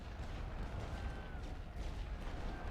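Distant rumbling gunfire and booms from a First World War strategy game battle on the Western Front, a dense continuous barrage at moderate level.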